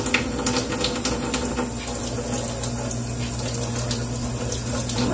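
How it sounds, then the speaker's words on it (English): Tap water runs steadily into a sink while acrylic stamp blocks are rinsed under it, a close, continuous gushing splash with small shifts as the blocks move through the stream. "I'm rinsing it really good."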